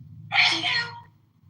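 A single sharp sneeze bursts out close by over a faint low hum, then fades quickly.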